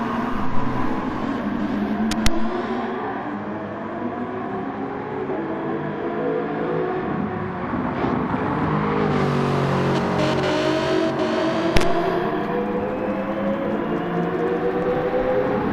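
Race cars speed around a circuit in a Gran Turismo video game race, engines rising and falling in repeated revving sweeps through gear changes and a chicane, loud and continuous with no talk.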